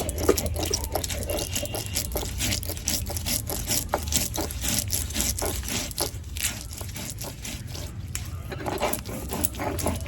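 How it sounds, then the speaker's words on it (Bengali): Mustard seeds and green chillies ground together on a grinding stone, a steady rhythmic scraping and crushing with repeated strokes, close and fairly loud throughout. "এখানে সরষে আর কাঁচা লঙ্কা একসঙ্গে আর বেটে নেবো"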